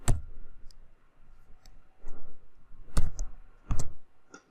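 A computer mouse clicking while lines are drawn in SketchUp: a handful of sharp, close, isolated clicks spaced irregularly in an otherwise quiet room.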